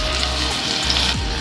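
Fish frying in a pan gives a steady, close sizzle and crackle of hot oil, continuous and even throughout with no talk.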